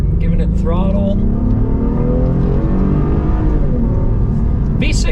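A Honda Passport V6 in sport mode accelerating under throttle, with a loud, continuous engine note whose pitch climbs steadily through the gears, plus audible induction noise and a voice talking briefly over it.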